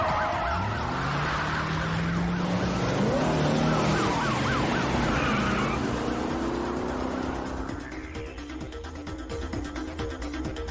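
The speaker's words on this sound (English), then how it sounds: "whilst they're in the car, the sirens are going" Police car sirens wail in a Parasite Eve video game cutscene as a car speeds from a police station, the rising and falling tones layered over engine noise before fading toward the end.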